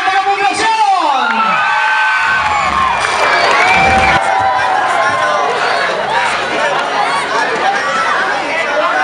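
Poblacion fans at a championship basketball game erupt into loud shouting and cheering, with high whoops, children's yells and chatter swelling in a dense, sustained crowd roar.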